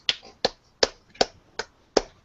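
A clap sound effect in a game: six crisp, sharp claps spaced evenly about every third of a second, close and clear with nothing else behind them.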